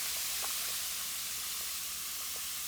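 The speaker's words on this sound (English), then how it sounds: "Look at all that fizz. You guys can hear that." Zuru Smashers dino egg toy fizzing after being dropped into water, a steady soft hiss of bubbling with faint scattered pops, quiet and continuous throughout.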